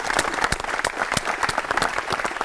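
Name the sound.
audience applause for Pak Lino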